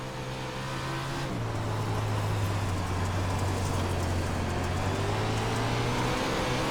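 A WoO 410 sprint car engine drones loud and steady in iRacing dirt racing at Lernerville Speedway, a continuous high-revving roar whose pitch dips slightly and holds, with rough buzzing texture throughout.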